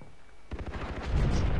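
Turret gunfire in the video game Far Cry 3, a burst of rapid heavy shots that starts abruptly after a quiet moment and builds into a dense, booming barrage.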